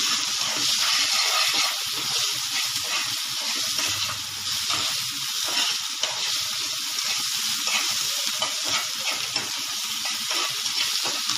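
Onion, capsicum, tomato and carrot, cut large, frying in a pan with a loud, steady close-up sizzle and hiss that continues throughout, with no one talking.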